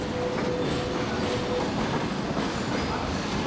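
A freight train rolling along the Trans-Siberian Railway, a continuous low rumble of wagons with wheel clatter and a brief thin squeal near the start, steady and fairly loud throughout.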